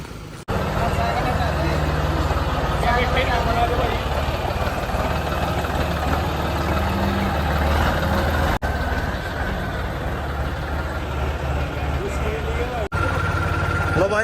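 A John Deere 5210 tractor engine runs steadily at close range, a loud continuous low diesel rumble with brief cuts, heard alone without talk.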